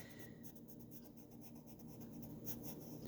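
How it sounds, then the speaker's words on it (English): Sketch and wash pencil drawing on paper, a soft, faint scratching and rubbing of strokes close up, with no speech. "you're working with the pencil right here, the pencil"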